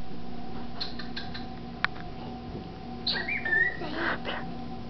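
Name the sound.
bird chirping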